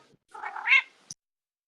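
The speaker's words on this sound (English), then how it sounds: "Yes, it sounds exactly like a cat." A single cat screams or caterwauls from a distance, one drawn-out rising and falling cry lasting under a second, followed by a short faint chirp and then silence.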